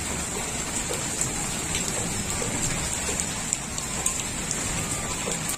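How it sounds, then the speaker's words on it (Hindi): Heavy rain pours steadily, a dense continuous hiss of drops pattering on surfaces with scattered sharper splashes, moderately quiet and unbroken, with no voices. "देखिए किस कदर शदीद बारिश हुई है आज।"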